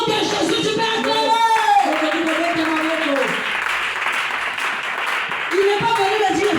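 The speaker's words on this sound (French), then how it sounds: "Au nom de Jésus, tu peux acclamer" A church congregation claps and cheers loudly and continuously, with voices mixed into the applause throughout.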